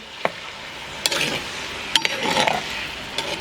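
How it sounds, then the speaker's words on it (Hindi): Desi chicken fries in a karahi for Shinwari karahi, giving a low sizzle broken by several sharp spoon clinks and scrapes against the pan. "थोड़ी देर के लिए इसको फ्राई करेंगे।"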